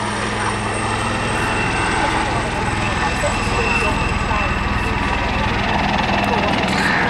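A Royal Navy Black Cats display helicopter flies aerobatic manoeuvres at the Southport Airshow, with a steady, loud rotor and engine roar that stays continuous throughout.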